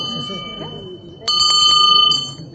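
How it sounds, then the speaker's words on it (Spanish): Small handicraft bells at an artisan craft market in Cusco ring in a bright, shimmering cluster for over a second, rising out of a low murmur of background voices. "Las campanitas."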